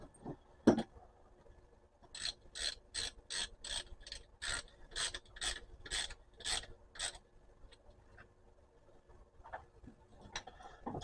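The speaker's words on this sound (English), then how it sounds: "Then I'll use the socket from the outside." A socket wrench ratcheting, a close run of about a dozen quick, evenly spaced rasping clicks, with scattered handling knocks before and after.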